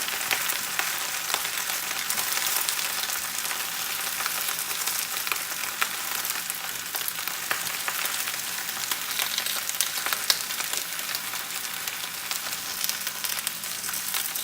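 Bok choy sizzles and fries in a pan of coconut curry seafood, a steady, close crackling hiss with occasional faint stirring clicks and no talk throughout.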